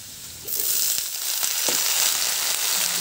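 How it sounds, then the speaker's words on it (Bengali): Cut cauliflower stalks and potatoes drop into hot oil with browned onions, bursting into a loud, steady sizzle that continues close and unbroken with no talk. "কেটে রেখেছি কপির ডাঁটা আলু, এবার সেগুলো তেলের মধ্যে দিয়ে দেবো"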